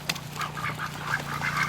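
Ducks quack repeatedly in short, nasal calls, fairly close and soft, with no voices.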